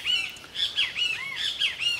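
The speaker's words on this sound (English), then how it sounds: "Birds." Birds squawk and chirp outdoors in a quick series of loud, high calls, several overlapping bursts close by with no talking.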